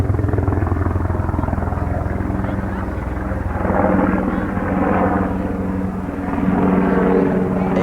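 Helicopter rotor thudding steadily overhead at a spring training baseball game, loud and continuous, with a voice talking underneath and the sound swelling as it passes.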